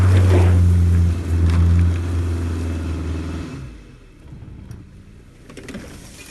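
Subaru all-wheel-drive car with a CVT climbing a hill in simulated low mode, traction control off, engine droning loudly at first, then easing and fading to a quieter rumble with faint outdoor background.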